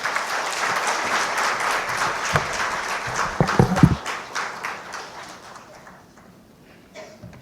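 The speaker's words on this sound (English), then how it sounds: "With a huge round of applause, please join me in welcoming Professor Rahul Purwar to the stage." An audience at an institute foundation day lecture gives a dense round of applause to welcome the lecturer to the stage, loud and steady for a few seconds before thinning out and fading to near silence.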